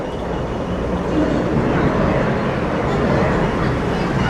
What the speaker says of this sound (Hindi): सो ये है भाई वियतनाम की लोकल ट्रेन्स जो यहाँ के गाँव की तरफ जाती हैं